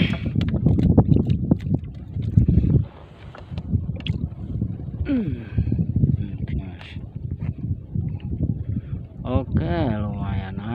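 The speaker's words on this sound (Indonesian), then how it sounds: "lumayan anginnya itu loh. Wah, dari tadi nggak berhenti ya." Strong gusty wind buffets the microphone outdoors near a boat on the water, rumbling in loud bursts while people talk and call out over it.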